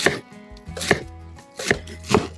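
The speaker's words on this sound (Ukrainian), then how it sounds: "Цибульку ріжемо мілко." Homegrown onion is chopped finely with a knife on a board, giving four crisp, close chops at an uneven pace with short gaps between them.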